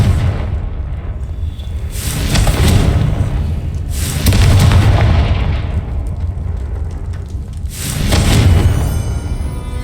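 Confringo fire spell exploding in the video game Hogwarts Legacy: a series of heavy booming blasts, roughly three loud bursts spaced a few seconds apart, each with a broad rumbling decay.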